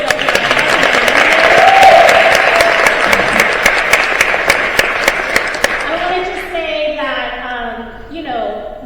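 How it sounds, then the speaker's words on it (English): Applause from an audience at a mayoral candidate forum, dense clapping for several seconds that thins out as a speaker begins talking. "folks give a round of applause to Rebecca"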